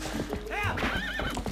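Epona the horse neighs in the Zelda Twilight Princess video game, a loud high whinny with rising and falling pitch over hoof clops, with someone talking over it.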